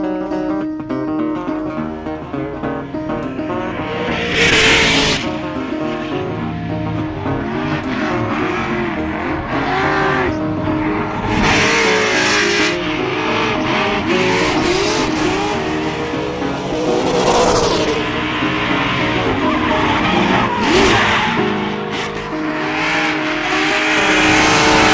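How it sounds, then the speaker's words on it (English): Drift car at the Lowbrain Drift Games revving hard with repeated tire squeals and skids, engine note rising and falling continuously over roughly twenty-five seconds, loud and close. "Josh Holsworth getting behind the wheel of the Lowbrain Drift Games"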